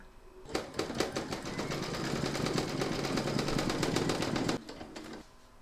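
An embroidery machine stitches eye details on a large double-sided Santa applique, a rapid, even mechanical rattle of needle strokes running for about four seconds before stopping, then a brief quieter whir.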